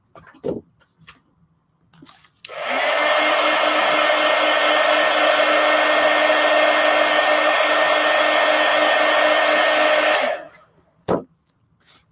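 A hair dryer blasts a loud, steady whoosh for about eight seconds while drying paint on a collage, switched on and off between brief taps and handling noises in otherwise quiet surroundings.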